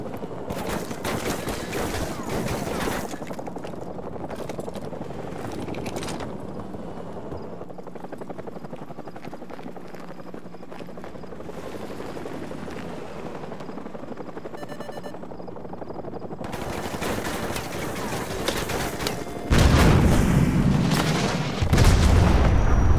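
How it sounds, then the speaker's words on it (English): Helicopter rotor roar and scattered gunfire fill a Call of Duty battle scene where a chopper is targeted with Stinger missiles; the dense, loud din runs throughout and swells into a heavier blast near the end. "grab a Stinger and take out that chopper"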